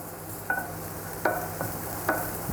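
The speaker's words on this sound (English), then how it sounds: "Just a light frying" Bacon and pasta fry quietly in a pan with no added oil, a soft steady sizzle broken by three or four sharp clinks and scrapes of stirring.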